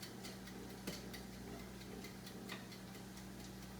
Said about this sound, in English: It's still ticking.